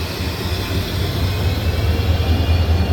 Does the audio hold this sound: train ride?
yes